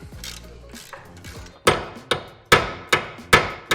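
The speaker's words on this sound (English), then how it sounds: "We tried everything. Wrenches, heat, we even brought out a sledgehammer." Sledgehammer blows on a seized, rusted front suspension of a car being built for racing: after some faint clinking, five sharp, loud metallic strikes land at a steady rhythm about half a second apart, each ringing briefly.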